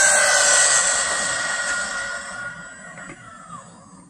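A high-pitched electric whine from an Arrma Typhon 3s BLX v3 brushless RC car racing past at high speed, loud at first and then fading steadily as it pulls away into the distance.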